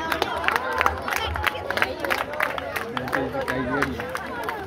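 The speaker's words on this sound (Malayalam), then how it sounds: "എല്ലാവരും കൈയടിച്ച് പ്രോത്സാഹിപ്പിക്കുക." Spectators at a school sports day in 2023 cheer on a boys' relay race: lively crowd noise with shouts, scattered clapping and overlapping voices, busy and fairly close throughout.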